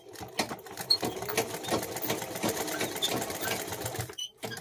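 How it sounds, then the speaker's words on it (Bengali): A sewing machine stitches fabric in a fast, steady run of close mechanical rattling, pausing briefly near the end before a last short burst. "এই যে দেখো বন্ধুরা ওই দিক থেকে যেভাবে সেলাই করেছি আবার এই দিক থেকেও সেলাই করছি।"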